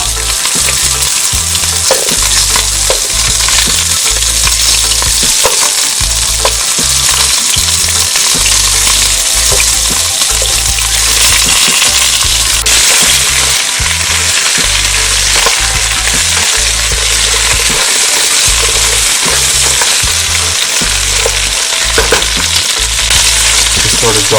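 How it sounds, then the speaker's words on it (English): Vegetables and aromatics sauté in a pot for an oxtail caldo, a loud, steady sizzle with occasional stirring scrapes and clinks, close up throughout with no talking. "I like to saute everything before I add in the liquid."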